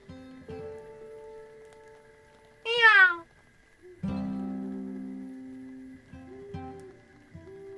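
A cat gives a single sharp meow, near and clear, within a quiet storytelling scene with soft background music.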